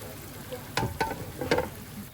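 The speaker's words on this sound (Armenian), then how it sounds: "Ավելացնելուց հետո իհարկե մի փոքր էլի տապակում ենք։" Seafood sizzles in a pan for Spanish paella, a steady soft hiss broken by a few louder crackling bursts as pieces are stirred, close by with no voices.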